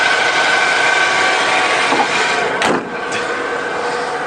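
The engine of a 20-year-old used truck with original exhaust runs steadily and loudly, a smooth continuous drone with a brief dip near the end.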